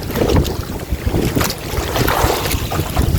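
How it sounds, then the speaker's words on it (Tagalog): Strong wind buffets the microphone in loud, gusty rumbles, with a roaring, blustery wash that rises and falls without a break. "Malakas ang hangin dito sa liblib lang mga kanonoy, sa papasok lang."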